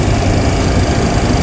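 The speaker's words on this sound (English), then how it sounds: "Start engine number 2, please." Number 2 engine of a Boeing 737-CL starting up on the ground, heard from the cockpit as a loud, steady low rumble and whine filling the whole clip.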